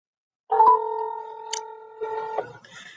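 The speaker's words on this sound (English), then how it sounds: "I'm gonna call him on the phone." A phone being dialed to call someone: a short sequence of steady electronic keypad tones, one long held tone pair with a brief higher blip, then a quieter tail, close and clear with no talking.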